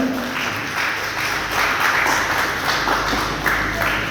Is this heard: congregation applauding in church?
yes